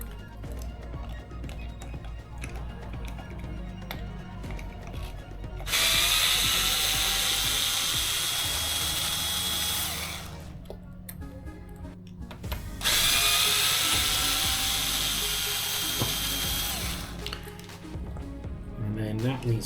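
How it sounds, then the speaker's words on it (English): Power driver removing screws while building a Tekno MT410 2.0 RC car kit, two long close whirring ratchet runs separated by quieter handling clicks. "Okay, so these screws need to come out."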